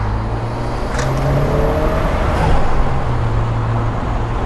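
A turbocharged SR20-swapped Porsche 944 restomod pulls hard under acceleration, its engine note rising steadily and loudly from inside the car, with road and wind noise mixed in.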